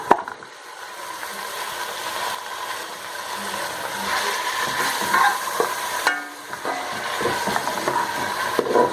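Half a kilo of mutton frying with ginger and garlic in a pot, a steady loud sizzle with a spoon scraping and stirring through it, a brief lull midway before the hiss picks up again; nobody speaks.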